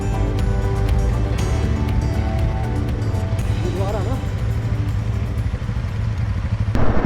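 A motorcycle rides along a road between Delhi and Solan, its engine giving a steady loud drone under wind rush while someone talks throughout.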